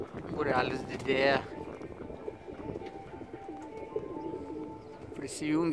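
Racing pigeons coo in low, rolling bursts near the loft, with a voice speaking between the calls and a faint hum and wind behind.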